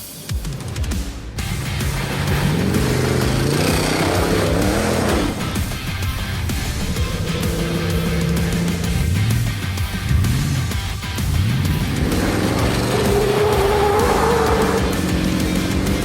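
A 1968 Ford Country Squire wagon body on a 2005 Dodge Ram chassis with a 5.7 Hemi and automatic transmission, its engine running loud and steady with rises and falls in revs and no talk over it.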